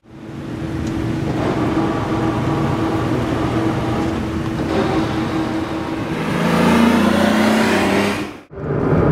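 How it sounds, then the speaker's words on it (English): Acura NSX on a cruise, with a steady engine drone and road rumble that swells as the car accelerates near the end, then drops out briefly before resuming. "out on a beautiful Friday afternoon on a cruise in the NSX"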